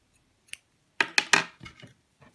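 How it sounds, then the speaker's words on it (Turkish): Scissors snipping crochet yarn while making baby booties: a few quick, close, crisp cuts in a short burst, with a faint click just before. "Şimdi ipi buradan kesiyorum"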